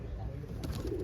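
Pigeons cooing softly in a racing-pigeon breeding loft, low murmuring coos over a steady background hum, with a brief brighter flutter of sound near the end.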